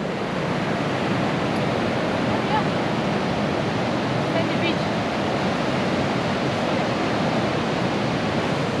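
Ocean surf at low tide on a rocky beach at El Zonte, El Salvador, a constant broadband wash of waves with wind, loud and unbroken.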